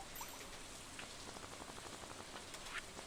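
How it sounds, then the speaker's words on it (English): Steady rain falls in the Stardew Valley video game, a soft continuous patter of drops on surfaces with no voices, filling the whole stretch evenly. "It's nice to have two rainy days in a row."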